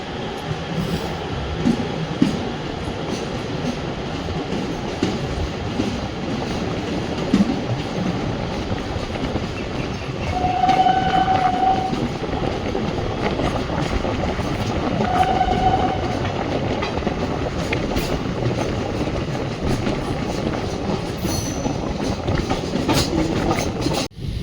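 A train running on the Bengaluru to Dandeli line, with a steady loud rumble of wheels on rails, rhythmic clatter and a couple of brief squeals, heard continuously from on board.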